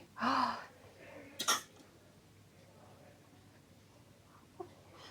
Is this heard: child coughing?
yes